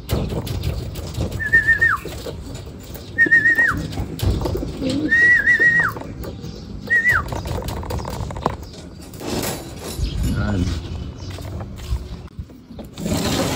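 Racing pigeons returning home from a release at Padre Burgos, Quezon give several short, repeated cooing calls in a row, clear and close, over rustling and outdoor background noise.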